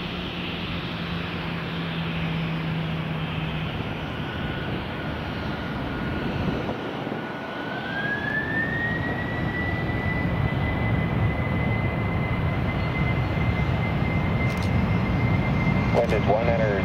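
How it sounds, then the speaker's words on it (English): A FedEx heavy jet takes off from runway 12 right at MSP Airport, its engines giving a loud, sustained roar with a rising whine, while faint voices are heard in the background. "runway 12 right, clear for takeoff."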